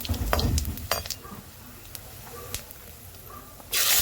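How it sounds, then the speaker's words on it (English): Coriander seeds, cumin seeds and two bay leaves frying in hot oil, with sharp utensil clinks and stirring scrapes over a steady low sizzle, then a loud burst of hiss near the end. "In hot oil, he's adding some dhania seeds, shira seeds, and 2 bay leaf, tej patti."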